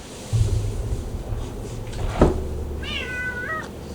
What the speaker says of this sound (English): This is my cat, Nova.